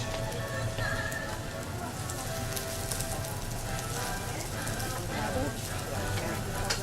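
Poblano pepper and green cabbage sauté in oil for yaki soba, giving a dense, steady crackling sizzle that runs throughout at moderate level.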